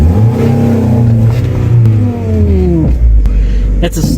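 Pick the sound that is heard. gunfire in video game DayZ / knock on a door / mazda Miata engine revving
mazda Miata engine revving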